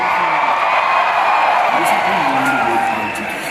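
A large stadium audience at Thyagraj Stadium claps and cheers in a broad, sustained wash of noise, with a voice carrying over the crowd before the sound eases slightly near the end.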